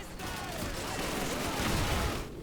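A tank fires on the player in the WWII shooter Call of Duty 2, a loud sustained blast with rumbling gunfire and battle noise that swells and then fades over a couple of seconds.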